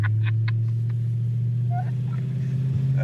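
Blown Thunderbird engine, a six-cylinder idling steadily on a winter road trip, its deep continuous rumble loud and close throughout, with brief voices talking over it early on.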